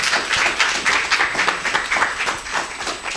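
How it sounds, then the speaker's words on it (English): Audience applause for a history panel, lively clapping from many people with uneven bursts, sustained and fairly close throughout. "let's give them a round of applause."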